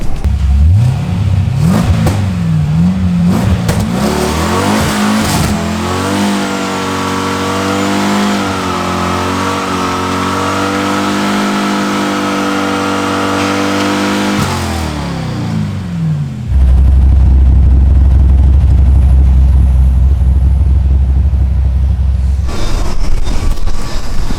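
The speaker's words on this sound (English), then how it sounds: "Thank you guys at MagnaFlow for this great sounding exhaust for the 69 Camaro." A 1969 Chevy Camaro with a twin-turbo LS3 and stainless MagnaFlow exhaust revs loudly and close, engine note climbing and holding through steady sweeps before dropping off into a deep rumbling idle.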